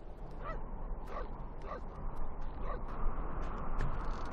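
Small dog Yuki barking in the game Syberia 2, several short yaps spaced about half a second apart over a steady noisy background, fairly near and moderately loud.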